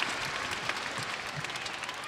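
A crowd applauding at an international netball match between Singapore and Malaysia, a brief burst of dense clapping, moderately distant and steady throughout.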